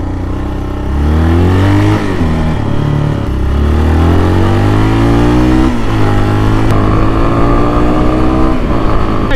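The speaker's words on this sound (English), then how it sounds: "It's a big old single cylinder XT 350 Yamaha" A 1991 Yamaha XT 350 single-cylinder dual sport motorcycle engine runs loud and close, revving up and down through several rises in pitch over a steady thumping idle, with no talking.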